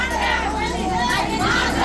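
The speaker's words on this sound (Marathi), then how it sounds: "ऑपरेशन सिंदूरनंतर कल्याण रेल्वे स्टेशनच्या स्कायवॉकवर भाजपचा जल्लोष" BJP supporters celebrate on the Kalyan railway station skywalk, a dense loud crowd roar of shouting and cheering voices filling the space continuously.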